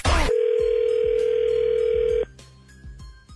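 A loud, steady telephone dial tone hums for about two seconds after a sharp click as a call is placed, then cuts off, leaving a quieter line with faint clicks and a thin tone.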